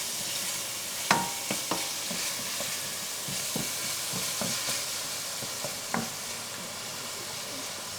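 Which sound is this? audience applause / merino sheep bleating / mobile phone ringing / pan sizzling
pan sizzling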